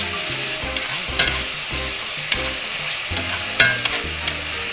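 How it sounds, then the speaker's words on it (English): Steak fajita meat sizzling and frying in a hot pan as a cup of water deglazes it, a steady crackling hiss with scattered sharper pops and occasional stirring scrapes, close and moderately loud with no talking. "That starts to deglaze it, and it starts putting a little sauce"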